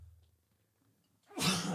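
A single sharp sneeze bursts out near the end after a brief quiet breath, loud and close in a podcast setting.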